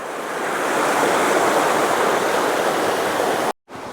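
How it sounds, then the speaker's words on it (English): A forest creek at Laurel Fork rushes over rocks in a loud, continuous wash of water heard up close, cutting off abruptly near the end before resuming. "This is a pretty good stream that flows through here."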